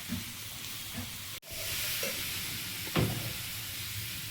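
Pumpkin added to a pan of fried carrot, potato, tomato and green chili, giving a steady close sizzle with a brief drop, then a soft thud and clink as the pieces go in.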